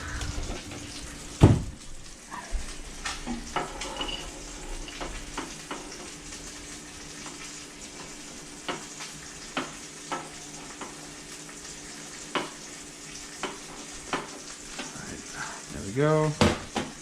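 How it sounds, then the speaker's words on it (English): Rosemary roasting in a hot pan while duck legs are braised: a soft, continuous sizzle with scattered clicks and taps of utensils, a louder clatter near the start and a short whine near the end, and talk intermittently over it. "I also have some rosemary, which I'm going to roast off."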